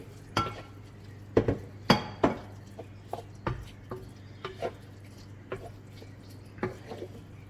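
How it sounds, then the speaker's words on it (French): A spoon stirring vegan bread stuffing for stuffed tomatoes in a pan, giving sparse scraping clinks and knocks at irregular intervals over a low steady hum. "Et on remue"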